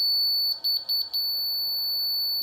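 Laser level receiver signalling on grade with a sustained high-pitched electronic tone, briefly broken by a few quick pulses before holding steady, close and clear with no speech.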